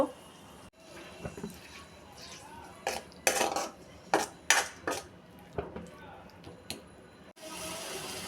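Onion and garlic paste fries in oil in a wok while a metal spatula stirs it, making intermittent clinks and scrapes over a faint, low sizzle.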